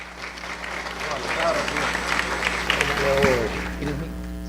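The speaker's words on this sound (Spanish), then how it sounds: "Un aplauso, por favor." Audience applause at a Peruvian digital business summit, a steady wash of clapping from a seated crowd lasting several seconds, with some voices murmuring underneath.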